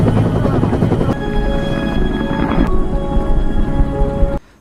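A rescue helicopter arrives in a film scene, its deep rotor thumping and engine roar loud and steady under a film soundtrack before cutting off suddenly.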